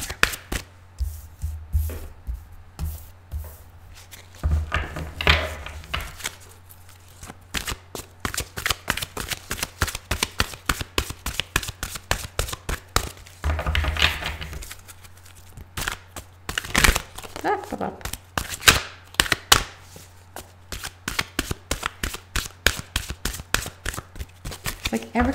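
A deck of playing cards is shuffled repeatedly, with rapid riffling bursts and soft slaps between them, close by, and a person talks intermittently over the shuffling.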